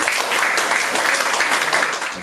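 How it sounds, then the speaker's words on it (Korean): Steady, dense applause from an audience at a Korean university faculty meeting, many hands clapping continuously at a fairly loud level before easing slightly at the end. "뜨거운 박수로 모시겠습니다."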